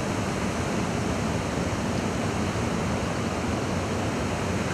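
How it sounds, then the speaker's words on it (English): Water pours heavily over a river weir in a steady, dense roar, close and unbroken throughout with no voices over it. "there's so much water coming down"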